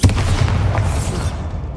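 A Bombarda explosion spell detonates in Hogwarts Legacy, a deep booming blast with rumbling low end that sustains and fades over a couple of seconds, loud and close with no talking.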